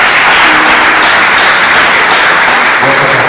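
A church congregation applauds loudly, dense continuous clapping filling the room from start to finish with a faint voice underneath.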